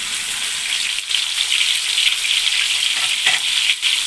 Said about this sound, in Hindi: ये चिकन देखें हमारा फ्राई हो चुका है